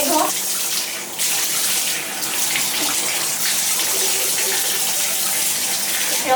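Water runs steadily from a tap into a bath while cats get their first wash, a continuous close gush with brief low voices now and then.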